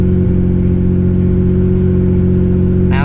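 A restored Mitsubishi 3000GT VR4 engine idles high at a steady, loud hum with no break, and a brief bump of sound comes near the end.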